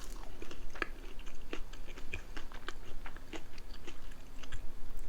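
Crunchy air-fried crinkle-cut french fries are chewed close up in irregular crisp bites and crunches that repeat through the quiet, with no talking.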